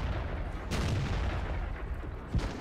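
A tank cannon fires in World of Tanks, a deep booming blast over a loud rumbling background of battle, with a second thud near the end.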